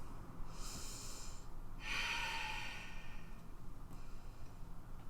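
Slow, deliberate breaths during a yoga pose, a long airy exhale followed by a fuller inhale, faint and close against a quiet room.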